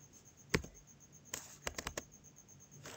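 Sparse key taps on a computer keyboard come close and fairly quiet, a single press followed by a quick cluster of clicks and another lone tap, with no talking.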